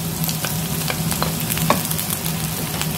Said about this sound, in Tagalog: lagay na natin yung garlic at saka ginger